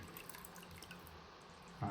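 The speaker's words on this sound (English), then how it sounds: "place the left hand under the tap, and with the water I'll move off with the water in the hand" Water from a tap runs and splashes over hands at a sink, a soft, steady hiss with faint spattering, heard fairly quietly at close range.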